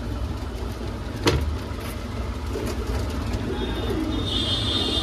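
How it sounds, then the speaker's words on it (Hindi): Punjabi Motichoor pigeons coo softly against steady outdoor background noise, with one brief sharp call standing out early on. "प्योर मोतीचूर कबूतर है सारे।"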